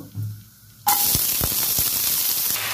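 Onion stalks, potato pieces and four green chillies hitting hot oil, a sudden loud sizzle that bursts in after a quiet moment and keeps hissing steadily, with a few utensil knocks.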